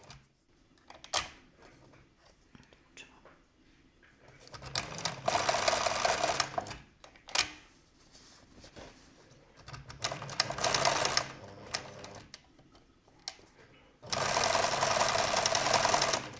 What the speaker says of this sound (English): Turn the selector and first make a sideways stitch.